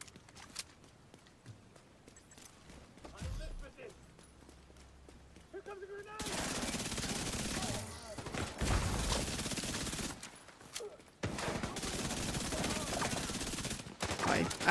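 Bursts of submachine-gun fire ring out in The Division 2 as long rapid automatic strings in the second half, and a player talks over the gunfire.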